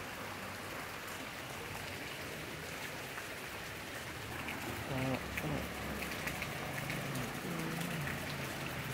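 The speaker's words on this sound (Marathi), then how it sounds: "हे बघा किती पाणी वाहत आहे, आज चांगला पाऊस झाला" Heavy rain falling and rainwater running outdoors, a dense continuous hiss and patter with water flowing underneath, steady throughout at moderate distance, with faint murmured voices partway through.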